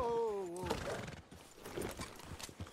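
A horse in Red Dead Redemption 2 gives a loud whinny at the start, followed by scattered hoof clops and game ambience, with a man's short exclamation over it.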